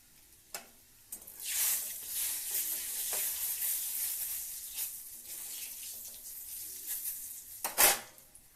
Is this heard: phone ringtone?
no